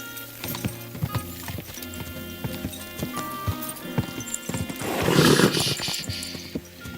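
Horse hooves clopping in Kingdom Come: Deliverance II, a steady run of hoofbeats under a game music bed, swelling into a louder burst near the end that may carry a neigh.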